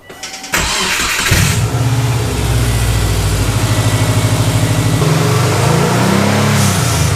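A turbo-swapped Subaru Impreza engine with an exhaust leak cranks and catches, then idles steadily with a rhythmic, puffing exhaust pulse, close and loud, settling into a slightly uneven lower idle.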